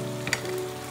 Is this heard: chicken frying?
yes